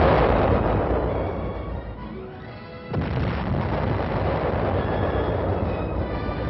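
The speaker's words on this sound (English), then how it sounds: "The chain of supply ends as armored artillery batteries fire outgoing rounds at enemy-held" Armored artillery batteries fire outgoing shells at enemy-held positions in wooded hills, a deep rumbling boom swelling out of continuous low roar, heard alone without talk.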